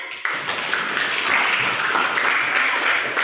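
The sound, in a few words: applause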